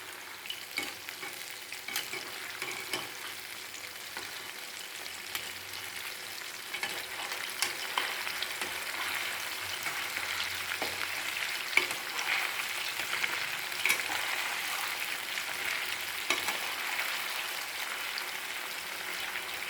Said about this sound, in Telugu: చిన్న చిన్న పీసెస్ కట్ చేసాం కాబట్టి మంచిగా వేగుతాయి.